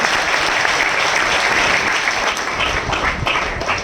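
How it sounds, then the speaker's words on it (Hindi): Church congregation clapping together during a Hindi and Marathi sermon, a dense, steady round of applause that holds loud throughout with no voices on top. "तालियां तो बजा देते पतरस के लिए"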